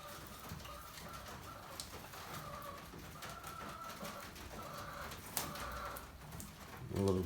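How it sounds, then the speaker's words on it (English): Pet pigeons or doves coo softly and repeatedly at feeding time, low and fairly faint, with a bit of rustling and a thump near the end. "Love watching my birds eat."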